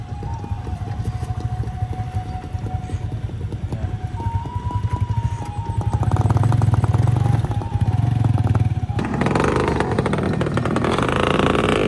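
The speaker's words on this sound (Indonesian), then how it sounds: "Vespa." A Vespa scooter engine runs on a damaged, landslide-hit mountain road, a loud continuous buzzing putter with rhythmic pulsing that grows rougher partway through, heard close.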